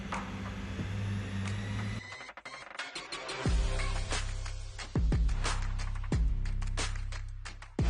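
Sharp rubber mallet taps drive a piston down into a Nissan RB30 engine block during a rebuild, a series of about five dull knocks spaced a second or so apart, close and clear.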